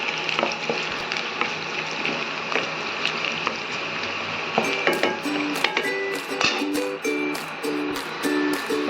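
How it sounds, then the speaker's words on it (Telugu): Onions fry in a pan with a steady close sizzle and crackle, and scattered scraping stirs and taps come through, busier in the second half. "ఇప్పుడే వేసుకొని ఫ్రై చేసుకుంటున్నాం"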